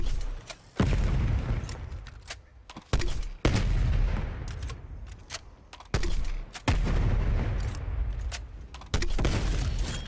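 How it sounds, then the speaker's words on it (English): An M79 grenade launcher fires in the Cold War Zombies video game, several loud, sharp booms in irregular succession, each followed by a rumbling decay, with no talk. "Grenade launcher."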